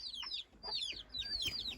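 Hens in a coop give quick, high clucks and squawks in short overlapping bursts, close by and fairly clear over a quiet background.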